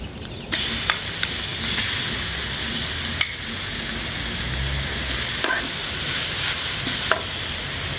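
Minced pork sizzling and frying in a hot pan, a steady loud crackle that runs throughout with occasional bursts of stirring, and no voices.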